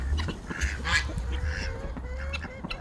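Ducks give a few short, nasal calls close by in a sunny backyard with other fowl, over a low steady hum.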